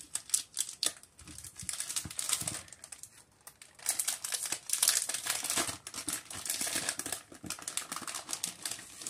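Scrapbooking supplies package being opened at close range, with dense crinkling and rustling of plastic wrapping in bursts and brief pauses, no talking.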